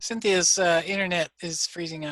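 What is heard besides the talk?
No everyday noise stands out behind the speech.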